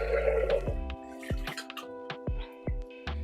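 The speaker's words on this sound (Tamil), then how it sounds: "அரிசியும் போட்டு கழுவிடணும்" Rice being washed in water in a kitchen while making sweet pongal, heard as a run of sloshing and dripping splashes, several distinct watery plops spaced through the clip with no talking.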